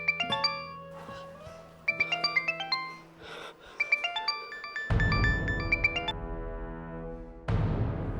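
A phone plays a melodic chime ringtone in a domestic drama scene, repeating bright tone phrases in short bursts, with a brief pause and louder background noise toward the end.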